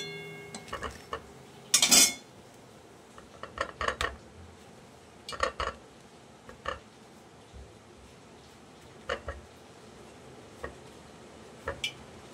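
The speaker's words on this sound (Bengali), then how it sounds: "এবার আমি বড়াগুলোকে উঠিয়ে এতেই আগে রাখবো, তেলটা টেনে নেবে।" Fried bora fritters lifted from hot oil onto a napkin, a scattered series of light clinks and taps of utensil against pan, one sharper scrape, close and quiet.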